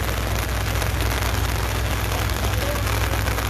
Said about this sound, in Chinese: 系啊，好乸大雨。